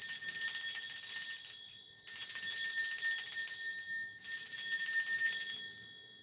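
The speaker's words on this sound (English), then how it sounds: "I'm going to ring this bell." A handheld bell is struck three times, each bright, ringing tone sustaining about two seconds before the next strike, heard clearly on its own.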